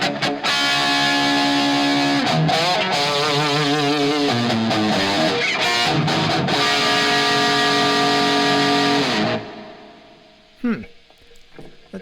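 Electric guitar played through studio gear with reverb panned hard to one side, sustained chords ringing loudly for about nine seconds before cutting off into a faint reverb tail and a few small knocks.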